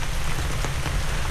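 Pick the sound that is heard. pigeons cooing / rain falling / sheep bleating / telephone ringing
rain falling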